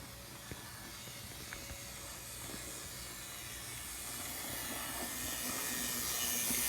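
A Hornby Henry model steam locomotive from Thomas & Friends runs on its track, a faint continuous mechanical whir and hiss that slowly grows louder as the engine speeds up.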